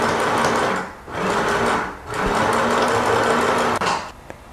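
A sewing machine stitches camisole fabric panels together, humming loudly in three continuous runs separated by brief pauses, ending with a few clicks.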